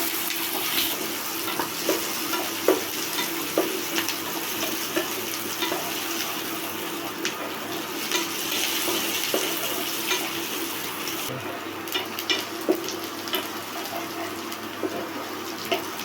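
Onions and curry leaves sauté in a pan as bitter melon stir-fry is started, a steady hiss of frying running under intermittent scraping stirs for the whole stretch, close and moderately loud with no talk.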